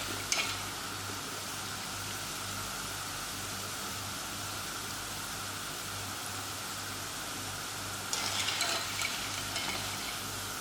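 Chicken pakoda deep-frying in hot oil for a street-stall style snack, a steady bubbling sizzle throughout with a couple of brief louder crackles and stirring stirs.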